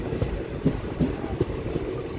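A Mayurakshi Express train rolls along the rails in darkness with a low rumble and a regular rhythmic clatter of wheels over track joints, fairly close.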